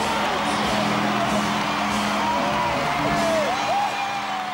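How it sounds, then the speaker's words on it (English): A large arena crowd roars and cheers as the Perth Wildcats clinch the 1995 NBL championship, with a steady wall of noise and scattered whoops and yells rising over it. "Let the crowd tell the story."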